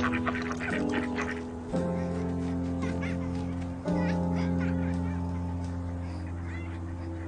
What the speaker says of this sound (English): a beautiful pond in the middle of the park with all the ducks taking their daily baths